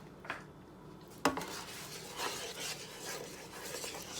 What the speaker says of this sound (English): Stir it all that up.